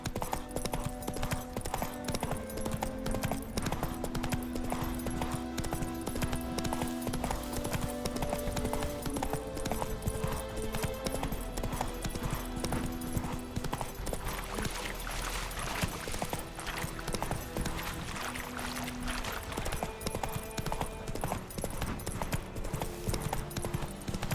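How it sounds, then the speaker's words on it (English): Horse galloping in The Witcher 3: Wild Hunt, with a fast, continuous clip-clop of hooves running throughout over a backdrop of game music. "Run, Roach"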